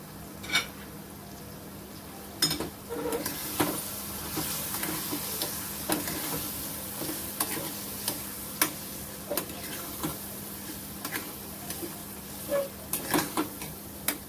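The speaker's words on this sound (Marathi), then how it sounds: "मधून मधून सतत हलवत राहायचंय आपला झुणका" Green pea jhunka cooking on low heat in a pan, stirred now and then: a soft continuous sizzle with repeated sharp taps and scrapes of a spoon on the pan, close and fairly loud.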